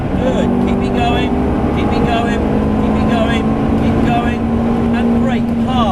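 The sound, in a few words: Ferrari race car accelerating at full throttle, Silverstone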